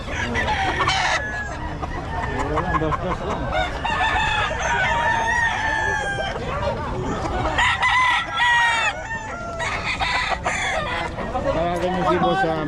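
Large derby-size roosters crow repeatedly and cluck at a busy Bocaue market, with several nearby birds overlapping while vendors and buyers talk throughout.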